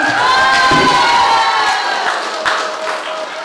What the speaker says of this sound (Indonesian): Tepuk tangan dulu dong untuk guru-guru sekolah alam.